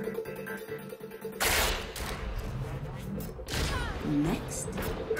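Widowmaker's submachine gun and sniper rifle fire in Overwatch, bursts of rapid automatic shots mixed with sharp blasts and game effects, loud and close, with a voice talking over them.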